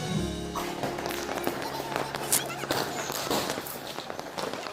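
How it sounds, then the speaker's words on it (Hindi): Diwali firecrackers bursting across surrounding rooftops at night, a dense crackle of scattered pops and bangs at varying distances, some sharp and near, others distant, with faint voices in the background. "सभी तरफ पटाखे चल रहे थे"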